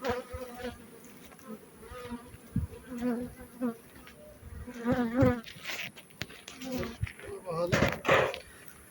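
Honey bees buzz around log hives at harvest, a steady droning hum close by that rises and falls, with people talking over it at times.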